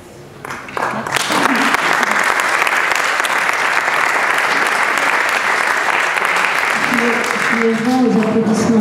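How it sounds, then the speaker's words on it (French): Loud, sustained applause from an audience filling a hall, swelling in after a second and holding steady for several seconds before thinning as a voice begins to speak near the end. "Aux applaudissements de la salle."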